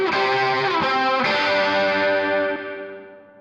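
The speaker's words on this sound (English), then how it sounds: "This is a spring reverb, which is different than the other reverb I've used throughout." Spring reverb on a lead guitar within a full mix, sustained distorted tones with a washy, echoing tail that swells and then fades away over a few seconds, no voices.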